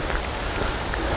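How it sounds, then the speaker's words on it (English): Steady rain falls on an outdoor morning walk, making a dense, close hiss of drops with no pauses and no voices. "And yes, goodness, but it's raining."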